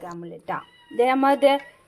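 A cat meows insistently for fish while fish is being cleaned, giving two or three close, loud, drawn-out cries in quick succession.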